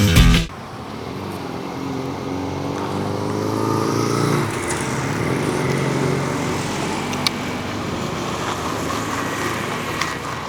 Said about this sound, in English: I'm sitting on a loud road, as you can probably tell